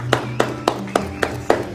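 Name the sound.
people clapping from balconies and windows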